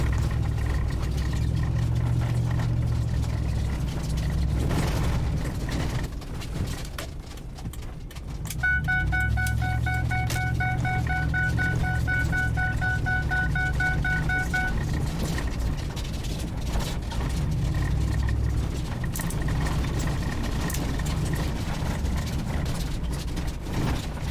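A Ford F-150 pickup with camshaft sensor circuit faults drives on a short test spin, its engine a low steady rumble with cabin noise and a brief rhythmic chime in the middle.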